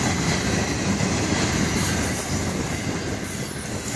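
FEC freight train cars rolling past close by, a steady loud broadband rumble with rail noise and faint wheel squeal, continuous with no voices.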